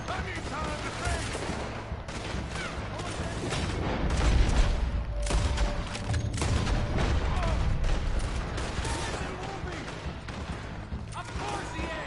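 Continuous gunfire during a shootout in Red Dead Redemption 2, many overlapping shots swelling to a loud peak midway, with voices shouting through the battle.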